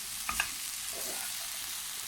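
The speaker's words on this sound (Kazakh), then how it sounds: "Оның үстіне міне қазір тәтті бұрышымызды салып тағы да кішкене қуырамыз." Sweet bell pepper being fried with beetroot, carrot and tomato for borscht: a soft, steady sizzle runs throughout, with two brief utensil clinks near the start as the mix is stirred.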